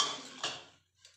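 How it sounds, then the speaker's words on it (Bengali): A metal kadai is set down on a kitchen stove: one quick clank followed by a short metallic ring that fades out, with nothing else around it. "দেখুন কড়াই বসিয়ে দিয়েছি।"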